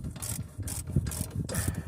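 Ratchet wrench snugging up suspension nuts on a Ford Fairlane, four quick bursts of close, crisp clicking in a steady back-and-forth rhythm.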